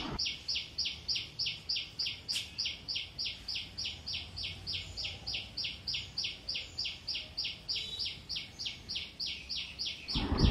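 At midday among mango trees, a bird repeats a quick, even, high chirping call in a steady rhythm for about ten seconds, moderately close and alone over a quiet background.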